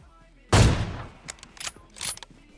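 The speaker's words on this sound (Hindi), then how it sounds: "और देखो AWM का शॉट" A single sharp AWM sniper rifle shot in PUBG Mobile rings out loudly and decays, followed by a few fainter clicks and mechanical bolt-action sounds.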